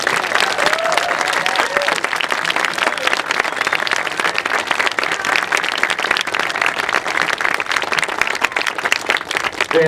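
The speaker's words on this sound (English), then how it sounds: "let's give another round of applause to our guests from Japan" A crowd at an outdoor anti-nuclear rally marking the Fukushima anniversary claps for visiting guests from Japan, loud, dense applause sustained evenly for about ten seconds.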